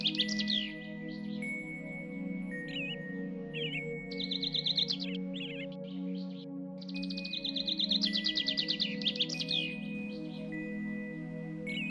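Sparrows chirp in clusters of rapid, bright calls, close and fairly loud, layered over a constant humming background with brief pauses between bursts.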